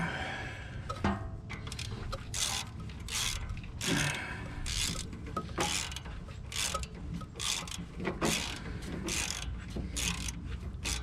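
Repeated sharp mechanical clicks from a ratcheting torque wrench on oil pan bolts of a Chevy K2500 plow truck, a steady series of close, crisp ratchet ticks with no talking.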